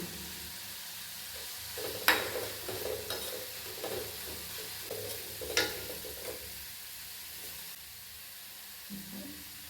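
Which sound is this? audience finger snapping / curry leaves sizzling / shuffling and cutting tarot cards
curry leaves sizzling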